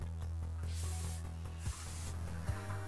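A spray can hisses in short repeated bursts in the Friday the 13th video game, the soft airy sprays sitting over a steady low game hum.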